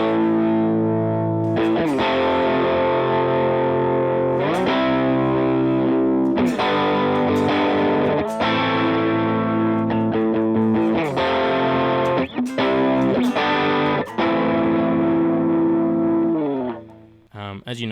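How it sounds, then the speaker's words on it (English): An electric guitar with distortion through an HX Stomp, in a worship style rig: loud, sustained distorted chords and notes rung out one after another over about eighteen seconds, close and alone, fading at the end. "if I'm playing something that I need a bit more kind of distortion"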